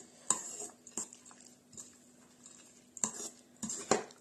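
Chicken fillet mixture stirred in a bowl, a few distinct metallic clinks of a utensil against the bowl with quiet scraping between them.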